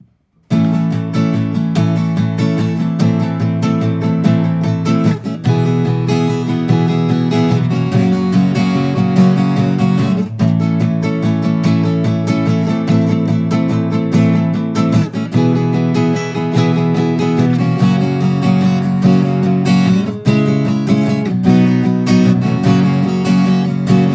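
A strummed acoustic guitar plays a steady chord progression, with chords changing every few seconds and ringing continuously, loud and close, no voices.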